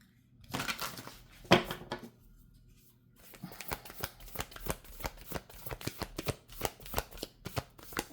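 Tarot cards being shuffled by hand, a riffle and a sharp snap early on, then a quick, steady run of crisp card flicks, close and fairly quiet, with no talking.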